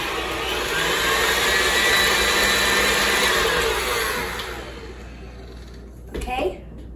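An electric mixer whirs through dairy-free chocolate chip cookie dough in a loud steady whine, then cuts off, followed by a short clunk near the end.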